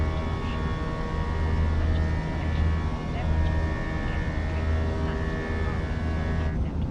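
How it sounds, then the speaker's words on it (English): Airbus A319 jet engines in a flight simulator game, a steady low drone with a continuous tonal hum running throughout, moderately loud and unbroken. "You can hear the engine sound."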